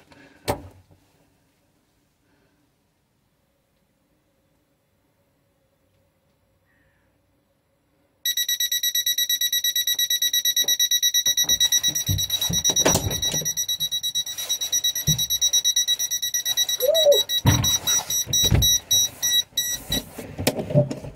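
A gas detector under test sets off a loud, sustained, steady electronic alarm tone that starts after a quiet stretch and holds, with clunks and handling noises layered over it and no talk.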